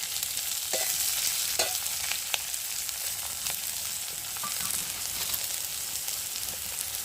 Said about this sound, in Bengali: আর এবার কুচনো পেঁয়াজগুলো দিয়ে ভালো করে ভেজে নেবে